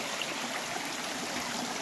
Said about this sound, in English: Come across a side creek here.